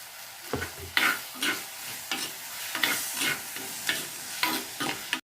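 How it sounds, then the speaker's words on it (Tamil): Ginger, garlic, pepper, cumin and fennel sauté with tomatoes in hot oil for an eggplant gravy, sizzling steadily while a spoon stirs and scrapes the pan in repeated strokes. "இதையும் சேர்த்து வதக்கிடலாம்."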